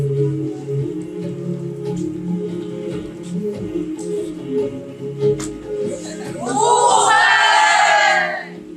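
Heavy rain falls during a stage performance at a Mongolian arts festival, a dense downpour that surges in over the last few seconds after a stretch of steady tonal background with some voices.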